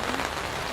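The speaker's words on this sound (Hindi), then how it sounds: "अभी बारिश फिर से स्टार्ट हो चुकी है" Steady rain patters on a tent at a campsite during a thunderstorm, a close, even hiss of dense drops with no voices.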